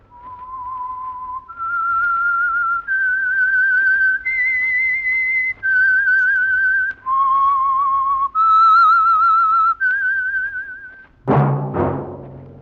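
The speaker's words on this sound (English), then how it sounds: "That whistle is your signal for the Signal Oil Program, The Whistler." Whistled theme tune of The Whistler radio mystery program: a lone clear whistle carries a slow melody of sustained notes, loud and close, ending in a brief sharp burst.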